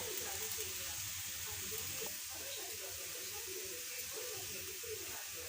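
Dosa batter on a pan with oil drizzled around the edges, cooking over medium heat; a faint, even hiss of sizzling runs steadily throughout at a low level.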